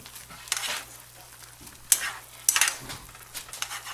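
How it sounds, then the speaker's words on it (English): Vegetables, including baby broccoli, hit a hot pan and are stir-fried, with a constant sizzle, sharp utensil clinks and scraping bursts against the pan, close up and without speech. "We can put the vegetables now too."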